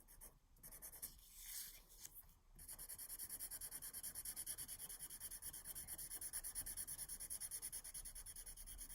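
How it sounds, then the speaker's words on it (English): A fine point marker scratches across paper while drawing an op art letter, a few separate strokes at first, then a long run of quick rhythmic back-and-forth scribbling, faint and close. "I think I'll just keep using this littler, finer point marker for this one"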